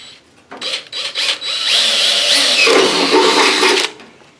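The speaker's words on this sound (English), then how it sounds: "So I'm just going to drill this hole." Power drill boring a hole through a Ford Mustang door panel, a few short bursts at first, then a steady close-up whine for a couple of seconds before the drill stops.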